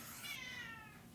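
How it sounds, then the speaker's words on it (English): A house cat gives a single quiet, drawn-out meow that rises and fades, heard alone against a soft background hush. "That was my cat."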